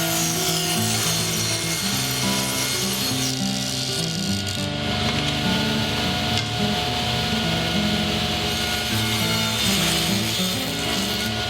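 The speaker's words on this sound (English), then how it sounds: "Then I'll flip the molding and cut this side of the bead" A saw cuts along a strip of wood bead molding with a steady, close, rasping grind whose pitch steps up and down as the cut continues, and no talk is heard.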